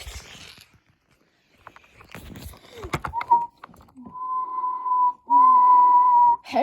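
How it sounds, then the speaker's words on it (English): A cartoon steam engine whistle sounds in a Thomas and Friends episode, first briefly and then in two long, loud, steady blasts after a stretch of clattering noises. "Henry whistled loud and long that it made the other engines awake."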